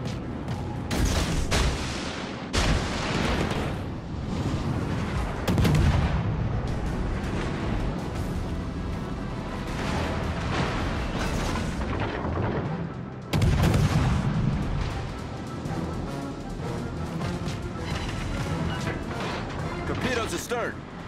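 Naval guns fire at an enemy destroyer in the World of Warships: Legends video game, with repeated heavy booming salvos and crashing impacts, some sharp blasts standing out, while a voice speaks over the battle.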